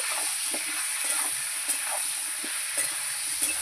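Potatoes, green banana and fish fry together in a pan with turmeric and salt, giving a steady close sizzling hiss broken by a few soft scraping stirs.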